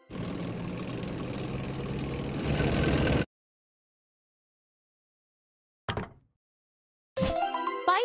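A tank's engine rumbles steadily in a children's transport video game for a few seconds, loud and close, then stops, followed by a brief knock and ringing game chimes.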